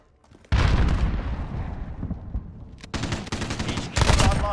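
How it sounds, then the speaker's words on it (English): A grenade blast amid gunfire in Call of Duty Modern Warfare, a loud close boom followed by dense rapid shooting and another sharp burst near the end, with no talk heard. "Throwing grenade."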